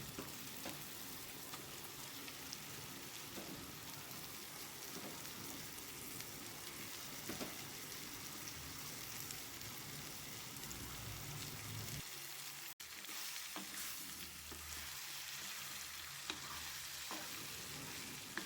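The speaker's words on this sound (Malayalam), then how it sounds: "ഇനി ഇതൊന്ന് നല്ലൊന്ന് ഇളക്കി കൊടുക്കണേ." Pieces of fish frying in masala-coated oil in a pan, stirred to keep them from sticking: a steady close sizzle with scraping stir strokes, which drops away briefly near the end before resuming.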